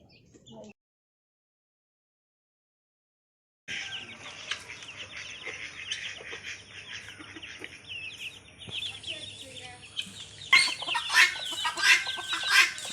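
Free-range village chickens cluck and call in bursts around a yard, close by and fairly loud, with a brief gap of silence near the start.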